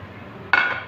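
A short metallic scrape and clink of a spoon against a steel bowl while semolina roasts in hot ghee with cardamom, one sharp stroke over a quiet background.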